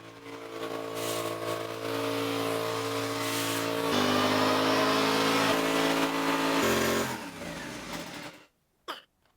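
A Cub Cadet RZT SX zero-turn mower engine idles with a steady droning hum, shifting pitch a few times as the throttle changes, then shuts off, followed by a short clunk.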